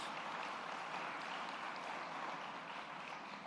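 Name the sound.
audience applause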